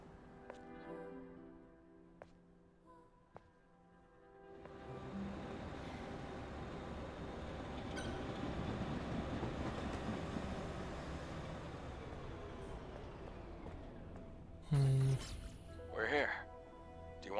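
A train departs in the video game Stellar Blade, a broad rumbling roar swelling up and holding steady for several seconds before fading, then sharp loud bursts near the end, with soft talk before it.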